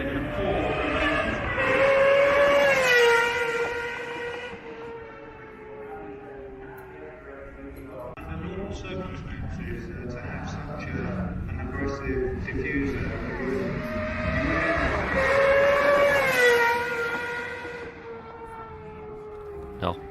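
A 650-horsepower 4-litre V12 car revs hard twice, each time a high-pitched, rising and falling wail, with a steadier engine drone between the revs and talk over it.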